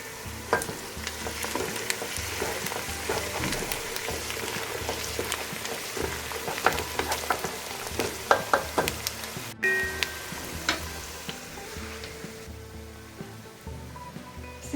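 Onion sizzles and fries in a pan while a spoon stirs it, with continuous close crackling and scattered scraping clicks and no talk, for a dish of meatballs with vegetables.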